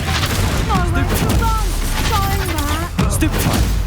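Confringo blasting spell in Hogwarts Legacy goes off amid a busy duel, with dense booms and crackling bursts layered under shouted character voices.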